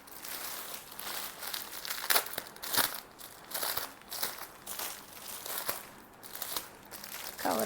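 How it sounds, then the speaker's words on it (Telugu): Plastic covers crinkling and crackling as they are pulled off hand-painted khadi cotton sarees, a steady run of close, busy rustles and crunches with no talk. "కవర్లు తీసి పెట్టవాలి"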